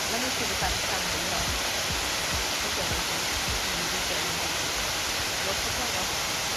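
Kintampo waterfall in Ghana gives a steady, loud broadband roar of falling water that fills the whole clip without a break, with faint low rumbling underneath.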